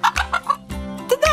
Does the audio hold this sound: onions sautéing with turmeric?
no